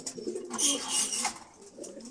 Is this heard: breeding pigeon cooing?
yes